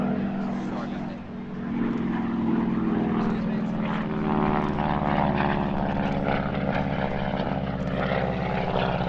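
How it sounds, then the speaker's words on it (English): A North American SNJ propeller trainer airplane drones loudly and steadily, its rough engine roar holding at a constant, close level throughout, at an airshow. "Take a look at this airplane and listen to this thing."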